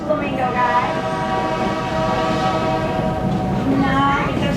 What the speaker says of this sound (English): The engineer is blowing the whistle so she knows we're coming.